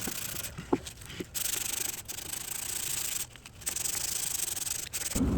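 Sanding an old rustic wooden desk by hand gives a close, steady abrasive rasp in long strokes, broken by short pauses and a few light knocks.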